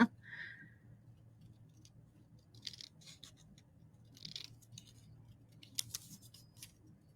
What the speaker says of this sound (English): I like to use my long scissors for longer cuts.